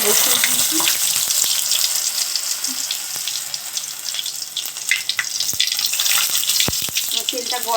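Hot oil in a pan for pumpkin and chili pakora gives a loud, continuous close-up sizzle and crackle, with a faint voice underneath.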